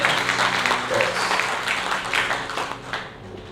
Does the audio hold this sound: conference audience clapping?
yes